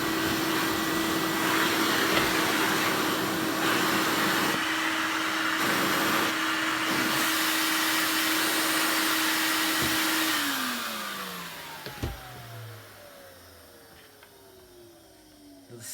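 A Filter Queen vacuum cleaner motor runs steadily and loud with a constant hum, then switches off around ten seconds in and winds down, its pitch falling into quiet.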